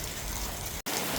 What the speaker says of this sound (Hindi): इतनी मोटी बारिश है।